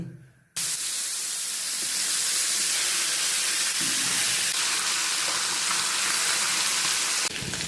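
Hot oil for frying pabda fish bursts into a loud, broad hiss after a quiet start, holding steady and close for several seconds before easing slightly near the end.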